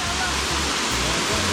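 Waterfall at Bambuza Adventure Park in Jamaica roars as a steady, loud, broadband rush of falling water, with low rumbling underneath and no break across the moment.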